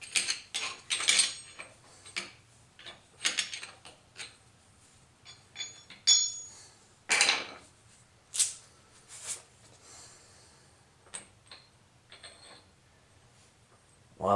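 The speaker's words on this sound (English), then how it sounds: "So remove the final nut here." A final hub nut being removed on a 1999 Jeep WJ during a brake swap, heard as a run of sharp metallic clicks and clanks from tool and nut, spaced irregularly over quiet room tone.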